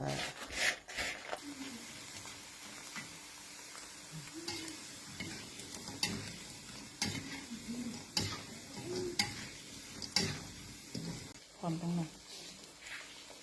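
Dried sticky rice frying in a pan, a soft steady sizzle with occasional stirring scrapes and clinks, heard under someone talking.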